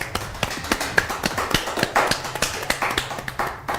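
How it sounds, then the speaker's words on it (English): Audience members at an African youth forum clap in a sparse, fairly even rhythm. The separate claps stay distinct and moderately close, with no voices over them. "Can you please clap for yourselves?"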